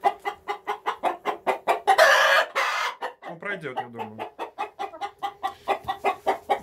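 Chickens in a coop suffering from mycoplasmosis cluck in a steady, rapid string of close, fairly loud calls, with a short burst of noise partway through and a person speaking briefly over them.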